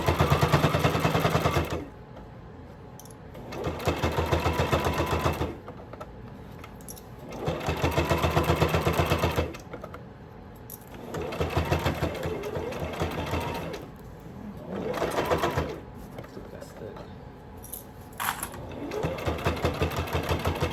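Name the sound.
sewing machine back stitching a clutch purse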